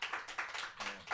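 Studio audience clapping as a show-of-hands style vote, a quiet burst of applause with several swells of hand claps over about a second, no voices over it.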